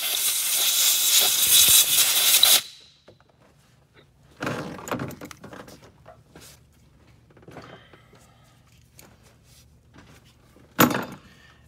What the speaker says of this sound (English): you want to put some compressed air in here again